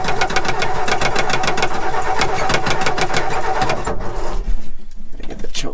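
A 262 inline six with a single-barrel Holley carburetor cranks in a rapid, loud, rhythmic churn, then catches and settles into a rough, uneven idle, close and with no talk.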